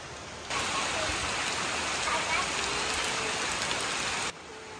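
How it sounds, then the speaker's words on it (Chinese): Heavy rain pours down in a dense, steady hiss that starts abruptly, holds for several seconds, then cuts off. "妈妈，下好大雨。"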